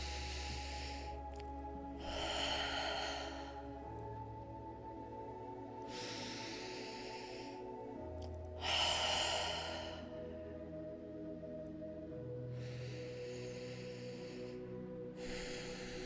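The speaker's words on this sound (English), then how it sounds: "Take 3 breaths like they are the first breath of your life." Slow, deep breaths taken one after another by an asthmatic person during a yoga-style mindful breathing exercise, each airy inhale or exhale fairly soft and close, with steady quiet gaps between them and no talking.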